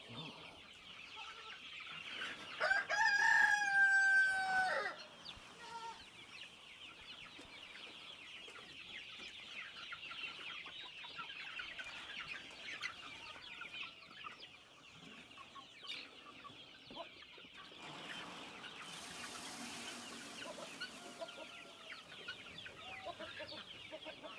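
Chickens in a pen cluck and squawk, with a loud, agitated burst early on, then softer, scattered clucking that carries on steadily in the background.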